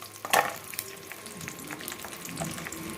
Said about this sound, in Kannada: ಗೋಡಂಬಿ ದ್ರಾಕ್ಷಿ ತೊಗೊಂಡಿದ್ನಲ್ಲ ಅದನ್ನು ಇದರಲ್ಲಿ ಎಣ್ಣೆಯಲ್ಲಿ ಫ್ರೈ ಮಾಡ್ಕೊತಿದ್ದೀನಿ